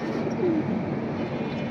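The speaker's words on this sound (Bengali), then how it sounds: "মাশাআল্লাহ অনেক সুন্দর এই কবুতরটা" Soft pigeon coos from a pair of birds, a short low warble rising briefly over steady room noise, close and continuous, no voices.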